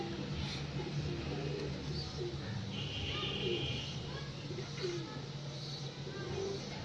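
Pigeons coo softly in a loft among fancy pearl-marked birds, their low repeated calls mixed with scattered chirps, while someone talks throughout.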